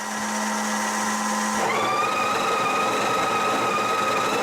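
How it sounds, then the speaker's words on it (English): A Breville Oracle espresso machine grinds and tamps coffee into the portafilter automatically: a steady mechanical whir that shifts to a higher, strained motor tone partway through, loud and close with no talk. "you take your portafilter, stick it in, and it grinds and tamps automatically"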